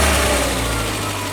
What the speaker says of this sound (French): là, j'allume le moteur. Écoutez ce ronronnement dantesque